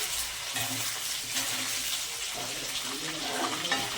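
Steady, close sizzling of chicken frying in hot oil fills the clip with a constant crackling hiss, faint voices murmuring underneath.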